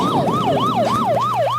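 Wailing police siren rising and falling in a steady repeating sweep, about five cycles, loud and close with no voices over it.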